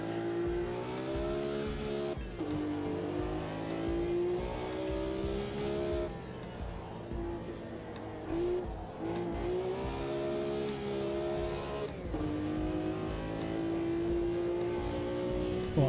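A Lamborghini race car in the Automobilista 2 racing game, its engine revving and shifting through gears in repeated loud, rising and falling sweeps, with brief tire squeal as the driver pushes hard on soft tyres.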